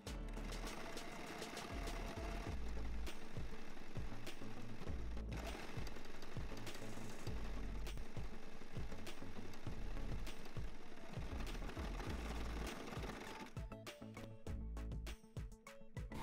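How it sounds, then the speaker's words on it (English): A sewing machine runs a zigzag stitch on men's shirt fabric, a close, loud, steady mechanical chatter with rapid needle beats that continues for most of the span before stuttering to a stop near the end. "So I'm going to sew it on the right side with a zigzag stitch."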